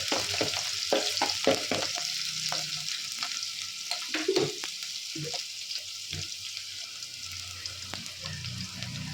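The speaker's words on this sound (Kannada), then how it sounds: "ಮಿಕ್ಸ್ ಮಾಡ್ತಾ ಇದ್ದೀನಿ." Green chilies and garlic fry in hot oil while a spoon stirs them, a steady sizzle broken by repeated scraping knocks against the pan, close and prominent with no voices.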